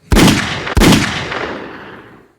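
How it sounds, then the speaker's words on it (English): A loud, close gunshot sound effect with two booming blasts in quick succession, followed by a long rolling echo that fades out, with no speech over it. "I made the gunshot, man."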